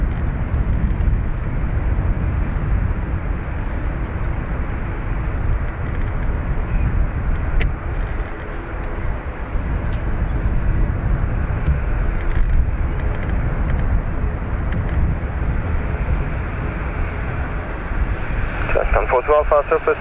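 An ATR turboprop taking off from the north runway at Dublin Airport, a loud continuous low engine roar holding steady and then easing, with people talking over it.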